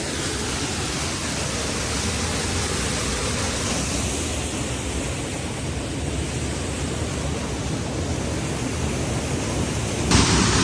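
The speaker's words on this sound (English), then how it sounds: "The water comes down here, hits this wall, and then goes into that cave, that little tunnel, that little archway there." Waterfall pouring down and crashing against a rock wall before running into a small cave archway, a dense, steady roaring hiss close by that stays constant throughout.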